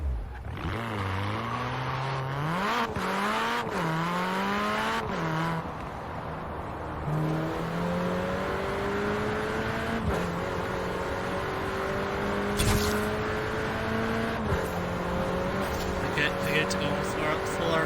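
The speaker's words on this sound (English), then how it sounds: "Yeah, it's on full RPM." A car engine in the video game Forza Horizon 4 revs hard at full RPM and climbs repeatedly through the gears, the pitch rising and dropping with each shift, loud and sustained, with a voice briefly underneath.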